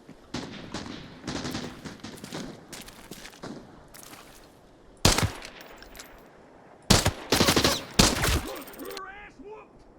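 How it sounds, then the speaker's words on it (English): Bursts of gunfire in the video game Arena Breakout come in clusters, some rapid and loud, others distant, over a rustling background with footsteps. "I hear gunshots."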